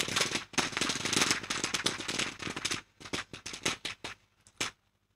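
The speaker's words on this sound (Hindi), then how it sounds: "आज ये आवाज देखिए आपको बार बार" Rapid, dense crackling of firecrackers bursts continuously, then thins into scattered sharp pops before fading.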